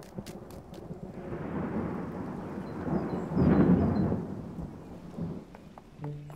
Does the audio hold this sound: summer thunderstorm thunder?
yes